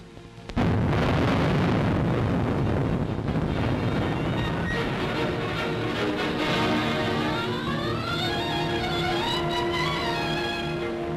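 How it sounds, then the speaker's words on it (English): A bridge is blown up: a sudden, loud blast bursts out and rolls on as a long, heavy rumbling roar, with a steady tone rising through it toward the end. "So great is the explosion that even here you can see the pieces falling in front of the camera."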